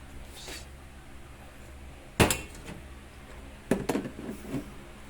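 Mussel soup being poured from one pan into another in a home kitchen: two clusters of sharp metal clanks and clinks from utensils and cookware over a low, steady background.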